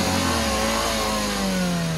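A $200 Honda Civic's engine revs hard at full throttle, a loud sustained mid-pitched roar with a slowly shifting tone as the revs hold high, close and continuous with no talk.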